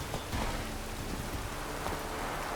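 Steady rain falling in The Witcher 3, a soft continuous hiss of drops on surfaces with low rumbling texture beneath, no voices.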